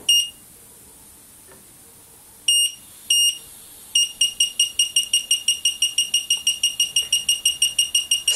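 A Seitron Gas Sniffer gas leak detector beeps, starting with a few separate high electronic tones and then switching to a fast, steady run of short, sharp beeps, loud and close with no voices.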